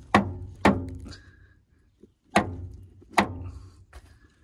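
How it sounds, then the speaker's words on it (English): A brick bashed against the starter of a Ford F250 with a 6.9 IDI diesel, giving four hard, close metallic-thunk blows in two pairs, each ringing briefly before fading. "Maybe that's just gonna take a couple of bashes. Let's get the old trusty brick here."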